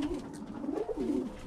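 Birmingham Roller pigeons in a loft give soft, continuous, rolling coos, close and steady, with no talk over them.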